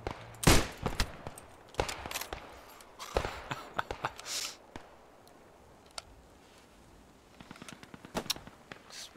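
Sniper rifle gunshots in a video game, a few sharp loud cracks spread across the clip amid scattered clicks and ticks of reloading and handling, with faint background game noise.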